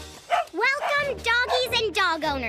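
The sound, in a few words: dogs barking in a cartoon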